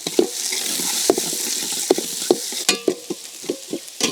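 Chopped onion hits hot oil with popped mustard seeds and curry leaves, sizzling steadily while a spoon scrapes and stirs in repeated sharp clacks against the pan.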